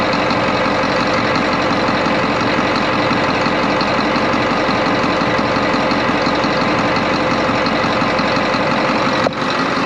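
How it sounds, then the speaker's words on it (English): An 8.2L Detroit Diesel marine engine runs at a steady idle, loud and close, a dense unbroken rumble with an even mechanical chatter and no pauses. "You check the gear oil when the engine's running."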